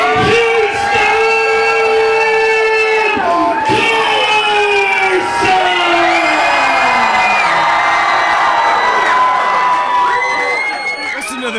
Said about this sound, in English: Listen to this crowd, Steve.